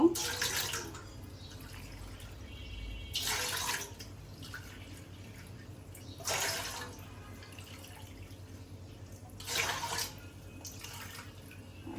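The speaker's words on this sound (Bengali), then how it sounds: "রসমালাই শিরাটার জন্য আমরা এখানে 6 কাপ পানি নিব।" Water is poured into a vessel in four separate short bursts, six cups in all, for the sugar syrup of homemade rasmalai, each pour a brief splashing rush with quiet kitchen pauses between.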